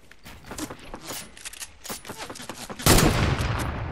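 Rapid gunfire from a building-and-shooting video game, heard as a dense string of sharp, broadband shots through the first few seconds, then a louder, sustained burst of firing near the end.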